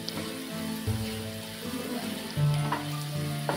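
Turmeric and garam masala get stirred in a hot frying pan for bharang bhaji, a brief low sizzle with scraping movements of the spoon, no talk.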